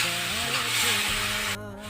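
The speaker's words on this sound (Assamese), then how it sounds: "তেতিয়ালৈকে অলপ ভাজি থাকিব।" Tomato, ginger and garlic paste fries in a pan with a steady, loud sizzling hiss, cutting off abruptly near the end.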